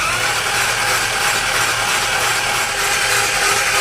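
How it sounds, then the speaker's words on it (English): A Ford truck engine with its spark plugs removed spins fast on the starter, producing a loud, steady, uninterrupted mechanical whirring drone that fills the whole stretch. "crank the engine over with the starter with no spark plugs in it so that it cranks really fast"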